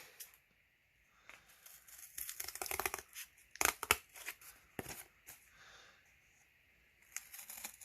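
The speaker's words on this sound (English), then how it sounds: "So cut it out here real quick." Material is cut out by hand for a McCulloch Model 77 chainsaw fuel pump adaptation, with close, irregular bursts of crinkly snipping and rustling separated by short quiet gaps.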